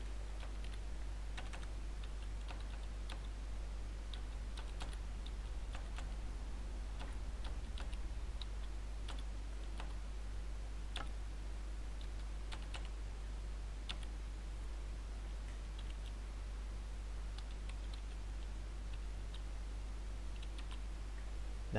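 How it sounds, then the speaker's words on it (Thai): Keys clack on a computer keyboard while entering text in AutoCAD, a steady run of light, close taps with irregular spacing over a constant low hum. "ผมจะพิมพ์ตามนี้นะครับ"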